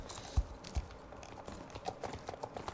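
Horse hooves clop softly at walking pace, a couple of heavier thuds followed by lighter irregular steps, faint and somewhat distant over a low background hiss.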